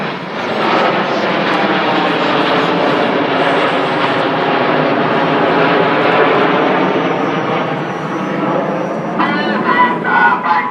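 Red Arrows jets fly the shuttle roll at the Farnborough International Airshow, a loud, continuous jet roar that holds steady and close throughout, then swells again with rising engine whine near the end.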